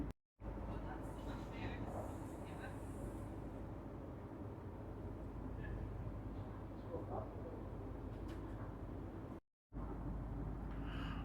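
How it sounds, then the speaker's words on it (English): A Metro diesel rail car runs on the Stony Point line at Baxter station, the least used station on the metropolitan network. Its engine and wheels give a continuous, fairly loud rumble with steady rail noise, broken briefly twice. "this is the only diesel rail car operated by Metro in their system"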